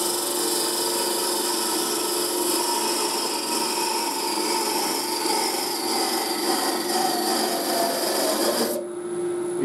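A wood-turning tool cutting a small box on a lathe, a continuous loud scraping rasp with a steady humming tone that runs evenly before ending abruptly near the close.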